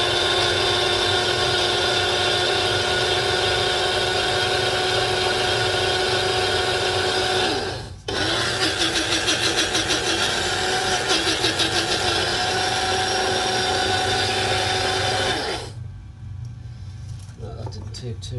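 Electric spice grinder whirring loudly as it grinds mixed spice powder, a harsh continuous motor whine that briefly cuts and restarts, then stops, leaving quieter room sound.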